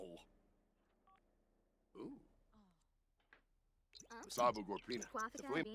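Short electronic telephone keypad tones beep in a sparse sequence over a quiet room, followed by bursts of nearby talking.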